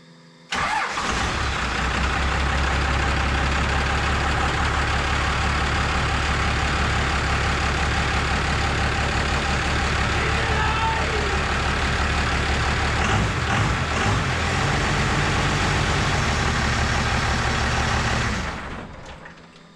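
A swapped Cummins diesel engine cranks and starts, then runs steadily for a long stretch at a loud, even rumble before shutting off, with the power steering straining underneath.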